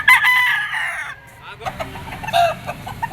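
Tornado hatch stag rooster at a gamefowl market in Padre Garcia, Batangas, giving a loud close crow that fades out, followed by softer clucks and scattered bird calls.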